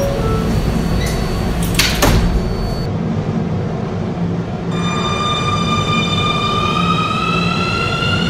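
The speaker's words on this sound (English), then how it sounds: "Please step back from the closing doors." Train doors closing inside a carriage, a loud continuous rumble with a short clunk, then a rising electric whine as the train moves off, with no one speaking.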